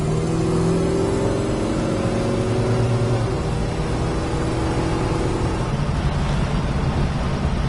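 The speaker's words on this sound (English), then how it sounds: "This is a nice, tight, solid running Roadrunner." A 1968 Plymouth Road Runner barn find on a road test drive: the V8 engine drones and climbs through acceleration with a rising tone, steady and close-miked, no talk over it.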